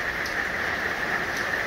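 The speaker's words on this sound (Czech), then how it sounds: "A už zase prší a už zase lije" Heavy rain pours steadily on the west coast of Florida near Sarasota, a constant close hiss with no breaks and no voices over it.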